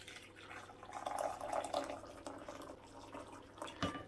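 A small measure of water, about 200 millilitres, is poured into a bowl while making instant ramen hot and sour soup, giving a soft, quiet trickle and splash that ends in a brief drip.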